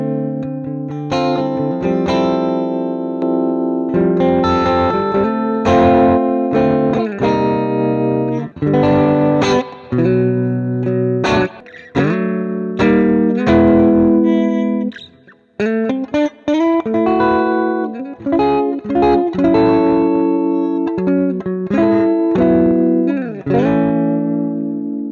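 An electric guitar played through a modeled Fender amp in AmpliTube with modulation, clean shimmering chords and single notes ringing out in phrases with short pauses, loud and alone.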